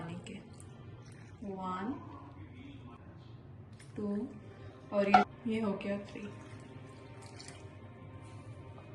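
Water is poured in short splashes from a measuring cup into flour for samosa sheet dough, close and soft, while someone talks and counts between pours.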